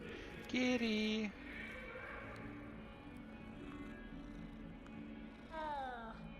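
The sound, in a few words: cat purring in Hogwarts Legacy video game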